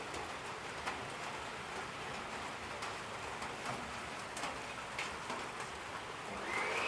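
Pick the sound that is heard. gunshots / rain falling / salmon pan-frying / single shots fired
rain falling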